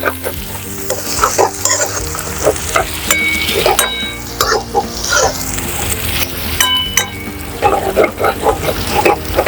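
White part of spring onion greens sautéing in a pan, a steady loud sizzle with repeated stirring scrapes and clinks throughout, no voices.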